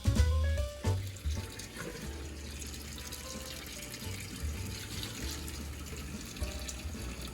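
Water gushes from a faucet into a large water-bath canner, a steady rushing splash after a brief clatter at the start, with no talk.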